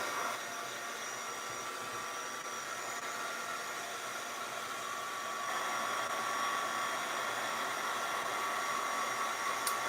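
Heat tool on a low setting drying an alcohol spritz on a craft project, giving a steady airy blowing hiss that runs the whole time, growing slightly louder partway through, with no talking.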